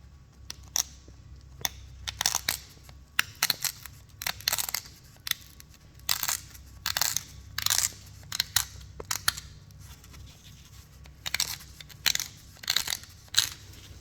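Obsidian point edge being crunched with a knapping tool to trim deltas while making a chrome obsidian Elko point, irregular bursts of sharp close crunching and scraping with short pauses.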